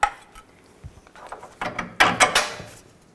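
A 21mm socket and wrench ratcheting out an oil pan bolt on a 2000-2006 Chevy Tahoe: close metallic clicks and clanks in short uneven bursts, growing busier toward the end, with no talk.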